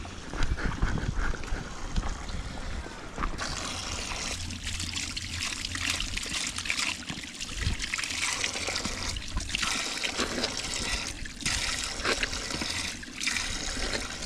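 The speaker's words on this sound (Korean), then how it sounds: "계곡 하부로 점차 내려갈수록 귓전을 울리는 거친 강물 소리가" Rough river water rushes loudly through a mountain gorge at Tiger Leaping Gorge in China, a dense, continuous roar that holds steady for the whole stretch with no voices over it.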